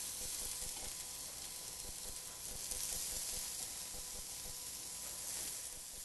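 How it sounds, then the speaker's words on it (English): Shrimp skewers sizzle steadily on a hot grill, a dense, even crackle and hiss that runs unbroken and close throughout. "Oh, lovely sizzles."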